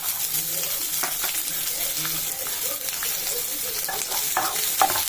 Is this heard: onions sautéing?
yes